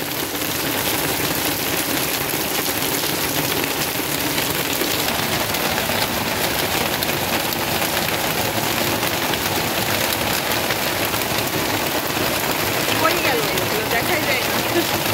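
A downpour keeps up a loud, continuous roar throughout, with a low engine-like hum underneath and a voice heard faintly now and then beneath the rain.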